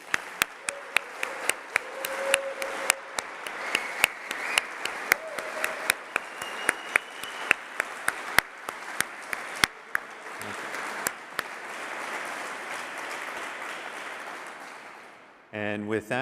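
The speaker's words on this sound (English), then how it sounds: "Let's give the DARPA staff one big round of applause." Audience applause for the DARPA Subterranean Challenge staff at the final-event awards ceremony: a long, steady wash of clapping with sharp individual claps over it, tapering off near the end as a voice briefly comes in.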